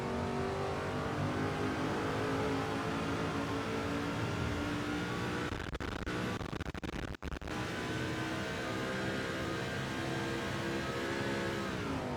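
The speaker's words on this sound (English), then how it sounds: "we're getting a lot of revs out of the car now with 9100 RPM" Race car engine in NASCAR 2005 held at high revs near 9100 RPM, a steady loud whine with stacked harmonics that stutters and drops out briefly midway before resuming.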